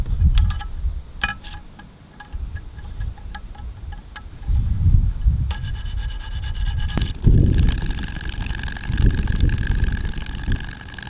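Knife blade drawn across 400 grit sandpaper in repeated rasping strokes, close to the microphone, with light knocks and some wind noise.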